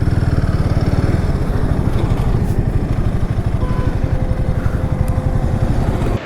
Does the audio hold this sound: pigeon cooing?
no